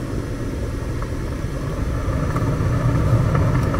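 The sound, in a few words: furnace blower running during heat exchanger test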